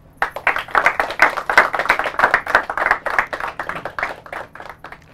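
An audience applauds, many hands clapping in a dense, lively burst that swells and then tapers off.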